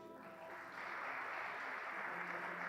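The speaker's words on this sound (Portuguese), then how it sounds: "Vamos aplaudir Jesus por isso?" A church congregation applauding during a Sunday service, a continuous, even patter of many hands heard from a distance and fairly faint, over a soft background tone at the start.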